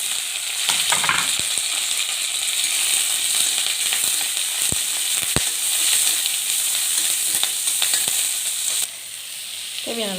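Onion, dried red chilli and curry leaves frying in a pan, a steady bright sizzle with a few sharp clicks of a utensil, alone and close, easing off near the end.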